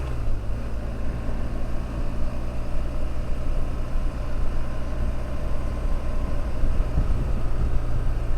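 A BMW GS motorcycle engine runs steadily under load, giving a constant low, dense rumble with a slight mechanical hum. It sits close and fairly loud, with no pauses and no voices.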